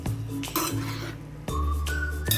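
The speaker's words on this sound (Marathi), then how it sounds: "हिरवं वाटण आणि त्याला मिक्स करूया" Green herb paste stirred into chicken kheema in a pan, a steady scraping and clinking of a spoon against metal with soft sizzling beneath, close and fairly loud, no talk.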